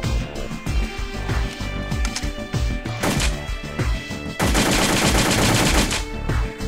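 Automatic AK-47 fire in the game World of Guns, with a loud rapid stream of shots, a brief pause near three seconds, then a denser sustained burst toward the end.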